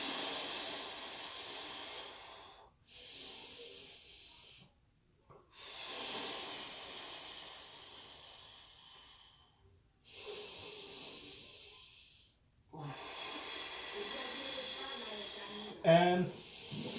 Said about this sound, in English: focus on the length of your inhale and focus on the length of your exhale